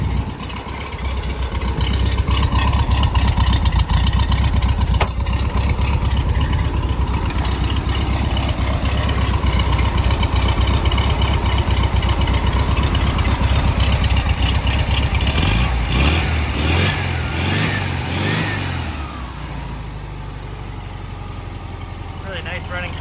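A 1953 Volkswagen Beetle ragtop with its 25 hp engine, idling with a steady rumble and then revved several times, loud and close, with a person talking over it and the engine settling lower near the end.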